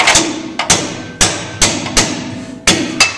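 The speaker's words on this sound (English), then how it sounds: "Take and knock it home with a hammer." Sharp hammer blows knock a shock mount into place on a Corvette trailing arm, about seven strikes in uneven rhythm, close and loud with a metallic ring.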